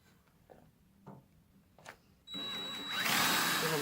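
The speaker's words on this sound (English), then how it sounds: "So I'm just gonna drill a bit smaller of a hole to begin with." A power drill boring a hole while building a mobile chicken coop starts up after a few light clicks and taps, then whirs steadily and rises into a louder, harsher grind as it bites in.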